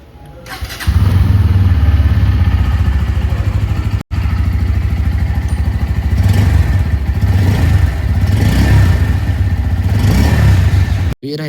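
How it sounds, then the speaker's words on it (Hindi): A 2025 Bajaj Pulsar N160 motorcycle with dual ABS starts up and settles into a loud, steady, close exhaust note that holds for about ten seconds, with no voices. "एग्जॉस्ट नोट की बात करेंगे तो एक बार आप एग्जॉस्ट नोट चेक कर।"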